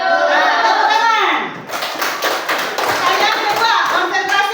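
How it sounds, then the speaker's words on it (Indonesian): Schoolchildren clap together in a classroom, a burst of close, lively hand claps that starts partway through, while a teacher and kids talk loudly over and before it. "Nah, tepuk tangan."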